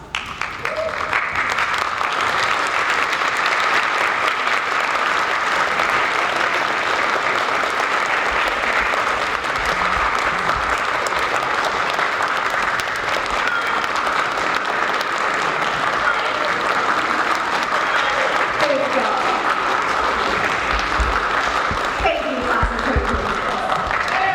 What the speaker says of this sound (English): will you please stand up and give your families a round of applause?